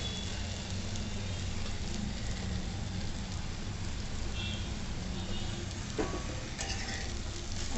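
Okra (bhindi) sizzling as it is sautéed in oil in a pan, a steady dense crackle and hiss continuing throughout without breaks, with faint background noise and no clear talk.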